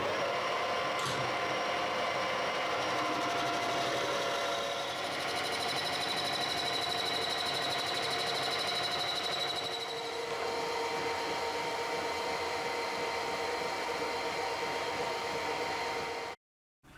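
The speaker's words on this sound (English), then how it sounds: "so I've got this to go in there, and then I'll just machine that out slightly" Metal lathe machining a bush: a steady mechanical hum with a hissing, whirring cutting tone running continuously for about sixteen seconds, shifting slightly in pitch, then cutting off abruptly.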